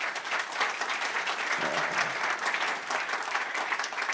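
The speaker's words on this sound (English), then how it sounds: "You deserve a big round of applause just before we go on." A crowd claps steadily and enthusiastically, a dense, sustained round of applause filling the room without pause.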